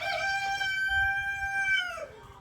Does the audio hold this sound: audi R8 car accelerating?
no